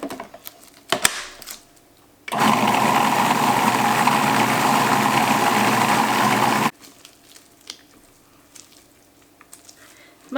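A food processor grinds green peppers for salsa verde, one loud steady whir of about four seconds that starts and stops abruptly, with quieter handling noises before and after.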